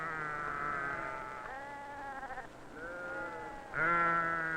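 Several Tibetan northern sheep bleat in turn during shearing, wavering calls overlapping near and far, with one louder bleat close by at the end.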